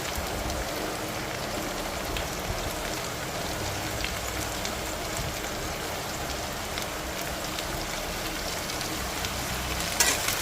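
Sliced onions sizzling in oil as they go into a frying Andhra-style bhindi and onion curry, a steady close crackle like rain throughout.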